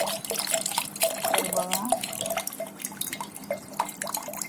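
Coconut water dripping and trickling out of a sweet coconut, a close stream of small splashes and drips while someone speaks briefly over it.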